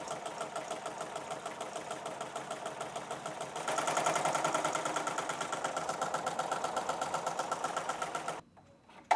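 A Smartstitch embroidery machine stitches a hat, a fast, even mechanical chatter of needle strokes heard fairly close and faint. It grows a little louder partway through and then cuts off near the end.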